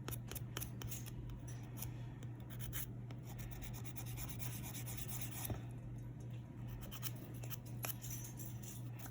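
A nail file rubs across press-on nails to remove oils and shine, producing a close, continuous scratchy rasping of quick repeated strokes over a low steady hum.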